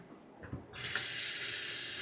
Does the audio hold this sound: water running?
yes